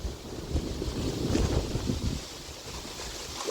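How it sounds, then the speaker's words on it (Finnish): Strong outdoor wind buffets the microphone beside a parked 2011 Dodge Challenger 3.6L, a steady loud rumbling roar with gusty swells throughout and no voices. "Täällä on kauhea tuuli, et en tiedä kuuluuko puhe"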